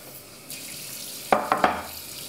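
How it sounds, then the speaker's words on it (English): Rice being rinsed in water in a kitchen, with a soft running-water hiss followed by three quick splashy swishes near the end, close and without talk. "I'm going to soak it in water. And I'm going to rinse it 3 times."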